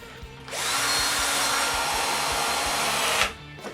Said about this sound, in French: je visse l'autre morceau au premier patron